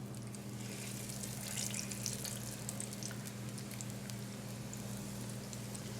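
Battered, double-dipped self-rising flour chicken hisses and crackles in a deep fryer, a steady close sizzle with a constant low hum underneath and no talking.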